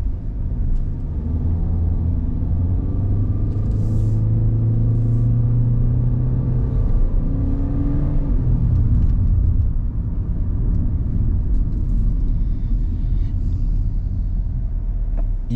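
A Kia Sonet SUV engine rumbles steadily inside the cabin as it accelerates on the road, with a low hum that rises gradually in pitch under continuous road noise.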